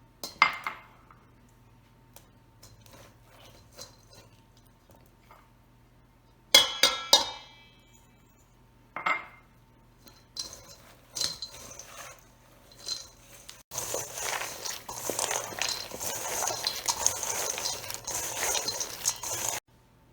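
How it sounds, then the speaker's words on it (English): Nuts tossed with a spice mix in a bowl make sparse clinks and knocks at first, then settle into a continuous rattling, scraping stir near the end, close by and without voices. "Gabriel's going to put the spice mix into the nuts and stir them until they're completely coated with all the spices"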